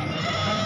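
Goats bleat at a crowded goat market in Khairpur, a short, dense burst of animal calls over steady background din.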